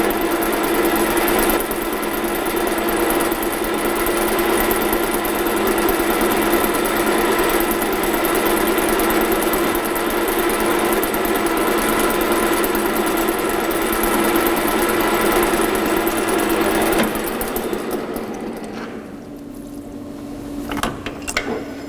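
A lathe drilling a center hole: a steady, loud machine drone with a constant hum runs for most of the clip, then winds down near the end.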